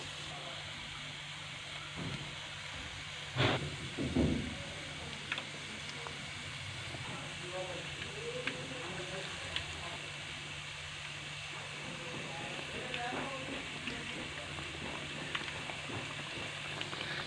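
Potato slices dipped in gram flour batter fry in hot ghee, giving a steady, close sizzling hiss with a couple of brief louder crackles early on.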